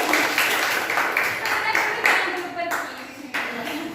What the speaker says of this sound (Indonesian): Ya, tepuk tangan juga.